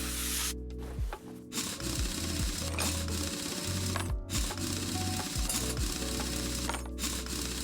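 A wrench removing car tires in Car Mechanic Simulator 2021, rapid mechanical ratcheting in repeated bursts, close and steady, broken by short pauses between nuts.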